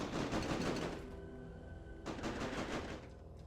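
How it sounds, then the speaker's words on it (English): Rapid cannon fire in the ERA ONE strategy game, two dense rattling bursts of rapid shots separated by a short lull, fairly faint. "He's got his little cannons going and he is pumping it"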